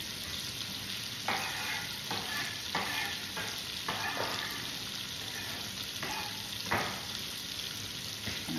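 Diced shallots frying in a pan for a sausage and tomato carbonara, a dense steady sizzle with repeated scrapes and knocks of a spoon stirring, close and fairly loud, no voices.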